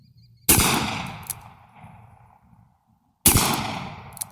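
Two loud, close gunshots from a Smith & Wesson Governor revolver firing .45 ACP outdoors, a few seconds apart, each a sharp crack followed by a fading echo.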